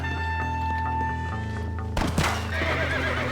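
In the Red Dead Redemption video game, a horse gives a loud, drawn-out whinny over a steady game background. A few heavy hoof thuds and clip-clops follow near the end.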